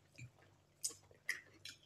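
Close, soft chewing of grilled food, a few moist crunchy bites and squishes spaced through a short, quiet moment.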